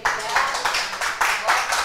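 Congregation clapping in praise of the Lord during a church service, a steady run of crowded handclaps in repeated bursts, fairly loud and close.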